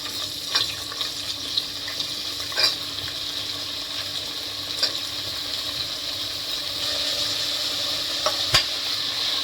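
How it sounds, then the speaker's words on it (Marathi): Mixed vegetables for sambar stirred in a pan, steady frying sizzle with a few sharp scrapes and clicks of the spoon against the pan, alone without talk. "याला दोन ते तीन मिनटं फक्त हलावून घेऊया"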